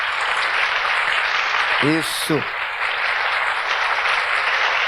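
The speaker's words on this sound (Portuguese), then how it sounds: "Vamos dar para Jesus uma salva de palmas." A church congregation gives sustained applause, a steady wash of clapping that carries on throughout while someone briefly speaks over it.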